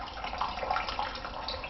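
Water drains steadily through a homemade filter into a cup, a continuous close trickle and splash with no talking.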